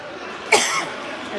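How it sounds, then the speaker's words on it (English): A single sharp cough from a lingering post-COVID illness, close and fairly loud, with a short breathy tail trailing off into quiet background. "I still have my dumb COVID cough"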